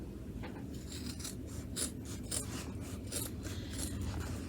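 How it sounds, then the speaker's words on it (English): Scissors snipping through layered chenille fabric while a hot pad is trimmed, a series of short rasping cuts in an uneven rhythm, close and fairly quiet with no talking. "Then I'm going to take my scissors and trim, leaving at least 1/4 inch there."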